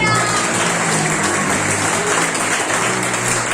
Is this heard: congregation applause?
yes